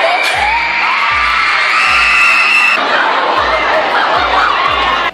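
Crowd of girls screaming and shrieking at a YouTuber, a loud, sustained wall of high-pitched screams and cheering recorded on a phone, with rhythmic low thumps underneath and an abrupt cutoff at the end.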